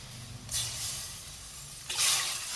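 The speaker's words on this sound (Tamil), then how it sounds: "இந்த அரைச்சதெல்லாம் உள்ளே ஊற்றி தண்ணி கொஞ்சம் நல்லா ஆட் பண்ணி ஊற்றிக்கலாம்" Water poured into a pot of green horse gram rasam with ground paste, two short splashing bursts of pouring, near and moderately loud, separated by a quieter low background hum.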